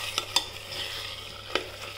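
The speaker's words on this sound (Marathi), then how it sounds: "आता आपण वाटाणे बटाटा त्याच्या मसाल्यामध्ये जरा परतून घ्यायचे 2 मिनिटं" A spoon stirs peas and potatoes through masala in a pressure cooker. A few sharp scraping clinks sit over a low, steady sizzle, close and alone.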